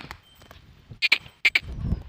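Goats bleat in two quick pairs of short, nasal calls, fairly close, while crossing a river, over a quiet outdoor background with a low rumble of moving water toward the end.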